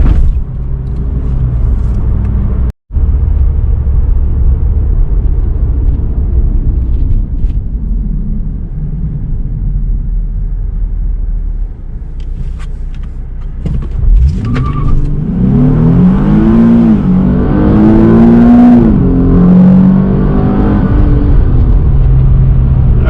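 A stock Nissan 370Z base coupe idles with a low rumble, then revs hard and climbs through several automatic gear shifts accelerating from 0 to 60 with traction control on, loud and close.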